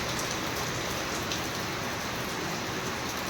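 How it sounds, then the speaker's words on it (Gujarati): Heavy rain pours down steadily in a dense, even hiss of drops striking surfaces, close and unbroken from start to finish, with no voices. "અત્યારે કંઈક વધારે વરસાદ ચાલુ થઈ ગયો"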